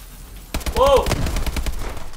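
A laser gun fires in Call of Duty: Advanced Warfare, a sudden loud burst of rapid zapping shots lasting under two seconds after a brief quiet start.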